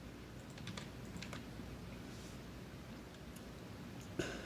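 A computer keyboard clicks as a password is typed, with irregular light keystrokes in short bursts over a quiet room hum and one sharper tap at the end.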